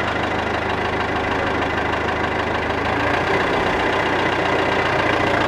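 A tractor engine idles steadily close by, with a continuous low, knocking rumble that stays even throughout and no voices over it.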